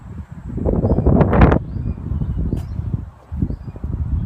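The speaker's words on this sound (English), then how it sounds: "Hope you guys can hear me here as it is slightly windy." Gusty wind buffets the microphone outdoors beside a white 2016 Ford Mustang GT, producing low rumbling bursts that swell and fade over a few seconds, with no talking.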